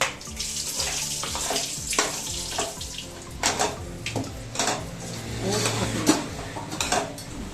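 Water splashes and pours into a cooking pot for banana flower biryani, with a loud, steady stream, gurgling bursts and a few clinks of metal close by.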